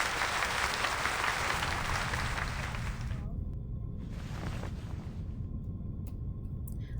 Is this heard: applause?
yes